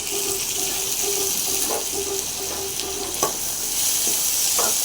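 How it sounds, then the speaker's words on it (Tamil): Tomatoes and onions sautéing in a pan for a Tamil-style beef curry, a steady close sizzle and crackle throughout with a few stirring clinks and scrapes, no talking. "தக்காளி போட்டு வதக்கி கொண்டிருக்கிறோம்"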